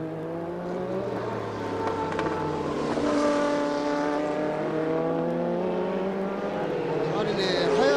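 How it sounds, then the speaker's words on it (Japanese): The No. 23 Calsonic Nissan works car races at the 1988 WEC in Japan at Fuji, its engine droning and shifting pitch as it runs, moderately distant, with a commentator talking over it throughout. "これがそのカーナンバー23番のカルソニック日産です。"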